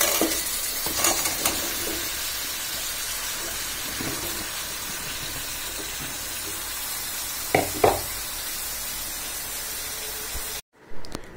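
Bottle gourd sizzling and frying steadily in a hot pan, a dense continuous hiss with a few louder stirring scrapes and clanks, cutting out briefly near the end.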